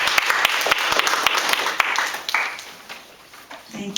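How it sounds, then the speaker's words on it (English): An audience at a candidates night in East Cleveland, Ohio claps for a speaker. The applause is brisk and fairly close, then tapers off after a couple of seconds. "Dr. Patricia Blahoviak, give her a round of applause."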